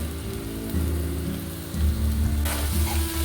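Onions fry in oil in a pan for a homestyle chicken fry, a close, crackling sizzle over a low steady hum that swells suddenly into a louder, brighter hiss near the end.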